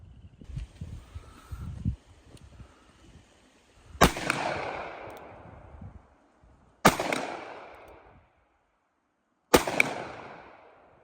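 Three separate shots from a 350 Legend AR rifle at an outdoor range, each a sharp loud crack followed by a short decaying echo, spaced a few seconds apart after some low handling noise.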